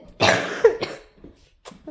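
A single harsh cough close to the microphone, followed by a couple of softer throaty sounds and a brief faint noise.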